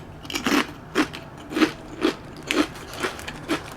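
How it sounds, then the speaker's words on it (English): Chips crunch up close during a mukbang, with about eight sharp, evenly spaced bites and chews at a steady rhythm, loud and crisp against a quiet background with no talking. "I'm gonna have some chips as we round out this mukbang"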